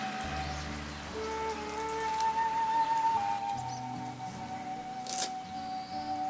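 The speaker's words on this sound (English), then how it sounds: "very heavy rain in crazy traffic" Continuous heavy rain pours on a surface in a waterlogged park near Lake Biwa, Japan, with a dense hiss, accompanied by faint tonal hums and a brief sharp tap near the end.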